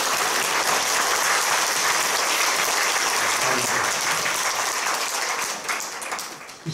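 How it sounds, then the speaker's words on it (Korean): A church congregation applauds during an elder ordination thanksgiving service in Korea, dense sustained clapping from many hands that holds steady, then tapers off near the end. "박수해 주시기 바랍니다."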